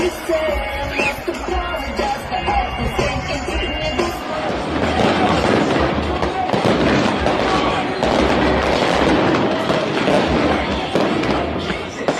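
Continuous rumbling booms and crackling bursts of post-match fireworks at a Houston stadium fill the air, loud and dense throughout, with distant crowd noise mixed in.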